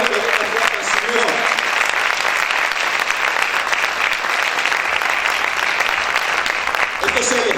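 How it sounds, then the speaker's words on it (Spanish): A church congregation applauds the Lord during a sermon, sustained loud clapping from many hands that runs steadily throughout and fades slightly at the end. "¿Cuántos pueden aplaudir al Señor?"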